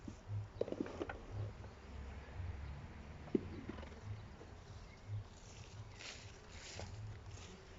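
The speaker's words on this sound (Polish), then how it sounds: "Kolejny rój, tym razem u nas na pasiece" Honeybee swarm at an apiary, a steady low buzzing drone with faint scattered clicks and knocks on top, heard alone without any talk.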